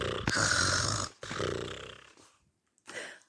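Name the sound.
snoring sound effect of a sleeping mouse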